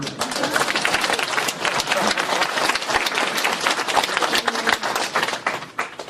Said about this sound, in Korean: 저 큰 박수가 필요하겠는데